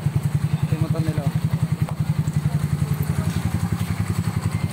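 A Yamaha Mio i 125 scooter idling up close, its engine a steady, even low putter with a regular pulsing rhythm that holds throughout, loud and alone.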